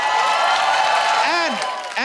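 A studio audience on a comedy talk show claps and cheers to welcome actor Aditya Roy Kapur, a short, loud burst of steady applause with a host's voice sliding over it near the end.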